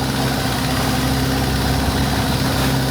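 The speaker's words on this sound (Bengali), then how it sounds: "আমরা একটা প্রাইভেট লং টেল বোট নিয়ে চেষ্টা করেছি।" A private long-tail boat's engine runs in Pileh Bay: a loud, steady low rumble with constant drone and vibration, unbroken for the whole stretch.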